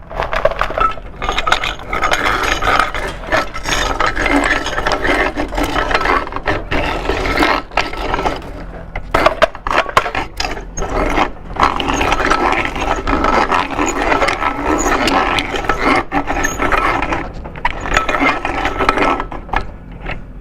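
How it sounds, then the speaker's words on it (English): A hand grinder grinds a sample for a particle size equivalent procedure, a steady gritty mechanical rasping and ratcheting that goes on throughout with short pauses, close and fairly loud, with no talking. "you're going to run the sample through a hand grinder"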